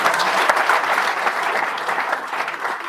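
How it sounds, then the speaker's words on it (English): A crowd of students applauds, a short burst of dense, steady clapping from a full room, loud and unbroken throughout. "A round of applause for yourself."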